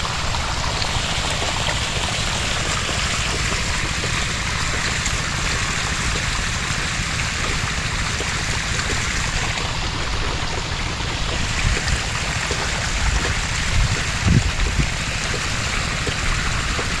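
Water gushes steadily from an irrigation pump outlet, a loud continuous rushing flow with no breaks for the whole stretch.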